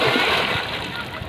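Water splashes and sloshes loudly and close as someone bathes in a pond, a continuous churning spray with a few heavier slaps, while voices talk over it.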